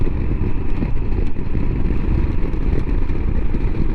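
Royal Enfield Himalayan motorcycle engine pulling uphill in fifth gear, a loud, steady, rough low rumble with continuous wind noise and no talking.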